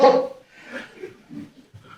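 A voice imitating a big dog's bark, one loud gruff burst at the start followed by fainter muttered vocal sounds.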